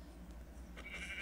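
A sheep in the Minecraft video game gives a single short, faint bleat over a low ambient hum.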